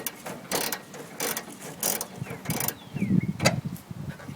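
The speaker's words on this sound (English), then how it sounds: "We're using a 5/8 socket and ratchet." 5/8 socket and ratchet removing the bumper bolts on a 1966 Mustang, giving a series of close, quick clicking bursts in an uneven rhythm.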